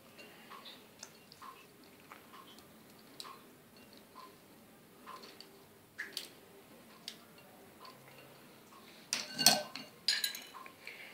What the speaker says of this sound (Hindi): इस तरीके से इसको मिक्स कर लें अच्छे से गोभी को इस घोल में।